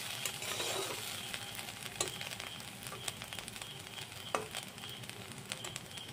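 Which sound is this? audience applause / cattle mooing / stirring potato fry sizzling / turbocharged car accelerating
stirring potato fry sizzling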